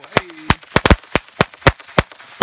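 A firework cake goes off outdoors, firing a rapid, uneven string of about a dozen sharp, loud bangs and cracks over a couple of seconds.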